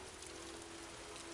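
Steady, dense rain in Skyrim VR hisses evenly throughout, a constant wash of falling drops with no voices.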